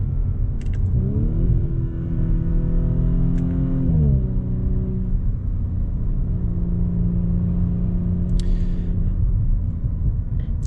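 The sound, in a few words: 2022 Audi S4 driving in dynamic mode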